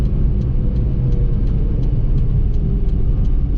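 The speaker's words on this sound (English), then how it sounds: "let's see what a regular Honda naturally aspirated engine can do" The naturally aspirated engine of a 1991 Honda Acty truck drones steadily and loudly as it climbs a hill, a continuous low rumble with no talking over it.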